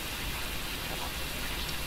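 Rain in the horror video game Phasmophobia pours as a dense, steady wash of hissing drops, constant and fairly loud with no pauses.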